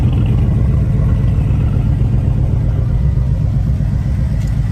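A Dodge Charger engine idles steadily and a little rough, a loud, continuous low rumble holding for the whole stretch with no talk over it.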